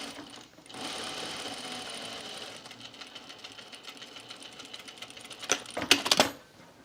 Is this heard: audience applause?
no